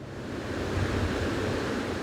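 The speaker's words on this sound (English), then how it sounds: "The mighty waves of the Pacific pound the shoreline during what's called a king tide" Pacific Ocean waves pounding the shoreline of low-lying islands during a king tide, a loud, continuous roaring wash of surf with no voices.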